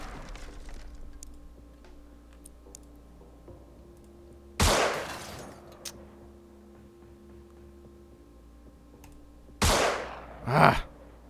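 Gunshots in the turn-based alien-invasion tactics game Xenonauts. Three sharp, isolated blasts stand out against a quiet ambient hum, the last two close together near the end.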